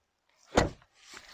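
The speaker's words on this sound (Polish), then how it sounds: "Warto też zwrócić uwagę na dźwięk zamykanych drzwi." A Skoda Superb 2.0 TDI-SCR 190 hp L&K car door swings shut with one solid, close thud, followed by a softer muffled settling sound a moment later.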